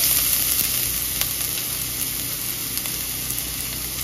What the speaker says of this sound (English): Now let's add the garlic